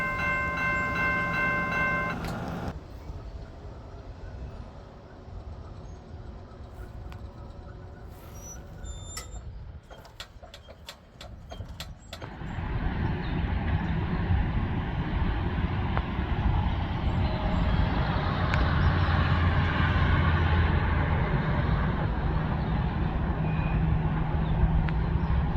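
Norfolk Southern freight train rumbling past a former rail yard, starting with a horn-like tone, then a low continuous roar of rolling cars that grows louder and steadier as it passes close by.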